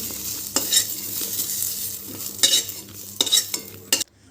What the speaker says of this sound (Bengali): অন্যদিকে একই তেলের মধ্যে আমি কাঁচা কলাগুলো ভেজে নিচ্ছি